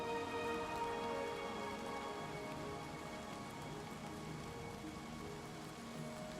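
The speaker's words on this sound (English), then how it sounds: "Ah, rain feels good." Steady rain falls in Oblivion Remastered, a constant close hiss of drops on surfaces that holds an even level throughout, with faint tonal music underneath.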